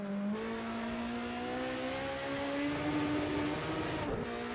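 A BMW 2002 Stanceworks Edition race car at Bathurst in Project Cars 2, its engine pitch climbing steadily under load through a long pull before a brief lift and a shift, close and loud, with no voices.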